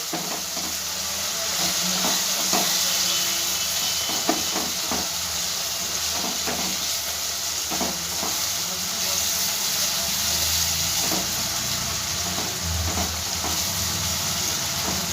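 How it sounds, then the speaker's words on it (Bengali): Cumin, turmeric and Kashmiri chili powder masala fry in hot oil for an egg curry, making a continuous close hiss and sizzle with soft, regular stirring scrapes throughout. "দিয়ে খুব ভালো করে মশলাটা ভেজে নেবো"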